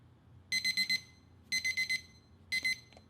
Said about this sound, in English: the alarm will sound